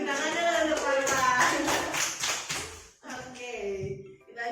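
Classroom applause during a microteaching lesson, a short burst of scattered hand claps from a small group mixed with chatter and voices, dropping briefly before talk resumes.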